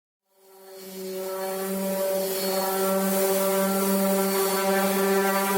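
A steady, loud mechanical whine with a strong buzzing hum starts up and runs continuously, a power sander grinding cured fiberglass cloth on a pine strip canoe nearby.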